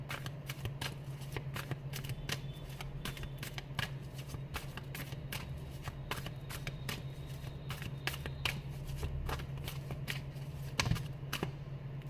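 Tarot cards are shuffled repeatedly and close up, giving quick riffling flicks and soft snaps in a steady rhythm, quiet and unaccompanied.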